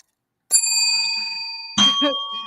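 A bright bell rings out once with a long shimmering tone, then a second, rougher ring follows.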